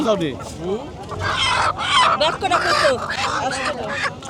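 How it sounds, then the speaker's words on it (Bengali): Several roosters and chickens cluck and squawk close by, overlapping in busy bursts, at a village market where roosters are being sold. "এই যে মুরব্বী আনছে মোরগ দেখেন"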